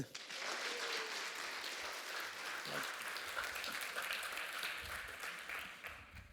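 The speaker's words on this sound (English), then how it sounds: "please give a big warm of applause for Rob Mulder" Audience at a PyData Eindhoven conference applauds the closing keynote speaker, a dense, steady wash of clapping that fills the hall for several seconds before tapering off at the end.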